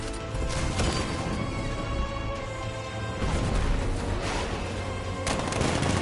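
Tank cannon fire in the Batman Arkham Knight video game comes as heavy repeated blasts and rumbling explosions that overlap in a loud, continuous barrage, with sharp bursts near the start, middle and end.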